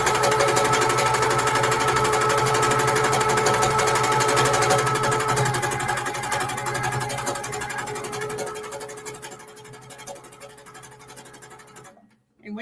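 A sewing machine stitching doodle quilting, a steady fast close mechanical whir and rattle that slowly eases off and stops abruptly near the end, with a voice speaking underneath.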